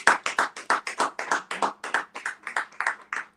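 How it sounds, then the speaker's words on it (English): Office staff clap in a quick, even rhythm, about a dozen and a half distinct claps, close and clear with no talk. "everybody in the office, clap for Mrs. Obaseki."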